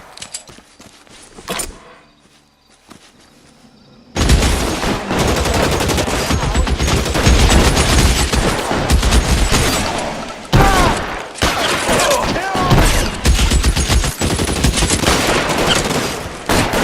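A shootout in the L.A. Noire video game: after a quieter opening with a few isolated shots, loud sustained gunfire erupts, rapid overlapping bursts and single cracks continuing densely to the end, close and intense.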